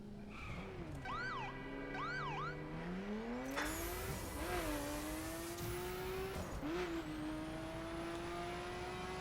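A synthetic car engine in the video game The Crew drones and revs steadily, its pitch rising through gear changes with brief dips, continuous and fairly close throughout.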